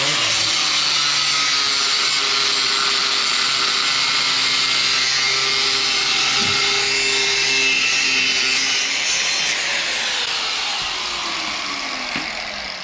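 A power tool cuts through steel bolts for a Dillon RL 550 reloading bench mount, a steady loud whine held for about nine seconds before tapering off.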